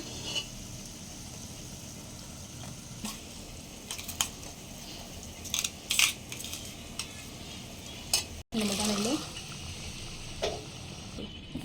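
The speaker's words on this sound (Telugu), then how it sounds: "ఇప్పుడు మనం ఉడికించుకున్న బఠానీలు మిక్సీ కొట్టుకున్న బఠానీలు మొత్తం కలుపుకుందాము" Boiled and ground peas being stirred together in oil for chaat, with repeated scraping and clinking of a spoon against the pan over a low frying sizzle, intermittent and close.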